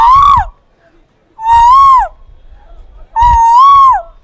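A human voice imitates a koel bird call three times, each a loud, close, rising-then-falling whistled cry lasting about half a second, separated by pauses with faint low thumps.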